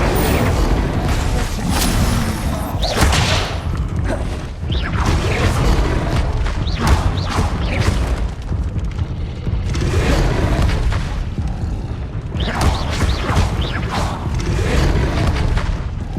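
Incendio fire spell blasts in Hogwarts Legacy combat, a dense run of loud booming bursts, crashes and thuds with whooshing flames, continuous and close, with brief game voices mixed in.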